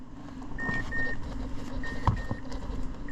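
A car on a 2007 Mazda 6 3L with a cylinder 2 misfire beeps in short repeated electronic tones, two pairs spaced apart, over a steady low engine hum and some handling noise.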